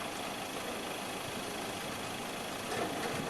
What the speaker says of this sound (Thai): ตัวนี้น่าจะใช้เครื่องยนต์ของ อินสุครับ เครื่องยนต์ดีเซล4สูบ 4จังหวะ